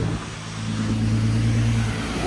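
A turbocharged Nissan 370Z VQ engine on a dyno settles into a loud, steady idle, a constant low engine hum with a slight pitch rise near the end, with no talk.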